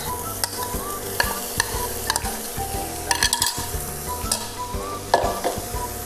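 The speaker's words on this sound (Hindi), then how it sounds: "अब हम एक पैन में 3 चम्मच तेल डालेंगे। अब हम इसमें मशरूम डाल देंगे" Mushrooms frying in three spoons of oil in a pan, with a steady sizzle and frequent scraping, clinking stirs that come in quick irregular bursts, close and loud with no talk.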